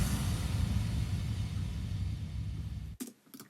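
Two impact kick effects layered together in a production mix, forming one deep, heavy, sustained low boom that holds steadily for about three seconds before cutting off abruptly, followed by a few brief fainter hits. No voices.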